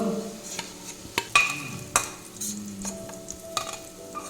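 Potatoes frying in oil are stirred and lifted out of the pan for a cauliflower egg curry, giving a steady close sizzle broken by sharp scrapes and clinks of a utensil against the pan.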